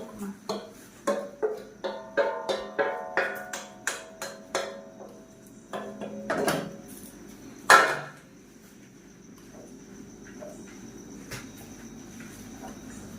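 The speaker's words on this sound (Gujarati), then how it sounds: "થોડીક વાર હલાવી લઈએ ઘીમાં" A spoon scrapes and clinks against a pan in a steady series of close, rhythmic strokes while grated carrot is stirred in ghee for gajar halwa, followed by a louder clatter and then quieter background.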